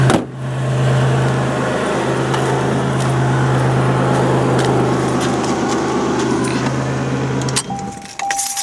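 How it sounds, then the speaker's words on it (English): A 1988 Buick Reatta engine idles with a loud, steady, throaty drone from an exhaust leak. The sound holds constant for about seven seconds, then a few clicks and a faint beep follow. "Got an exhaust leak, it's kind of hard to talk over it."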